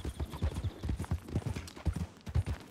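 Horse hooves clip-clopping in the Western game Red Dead Redemption (RedM roleplay), a quick, uneven run of close, fairly soft thuds with no talking.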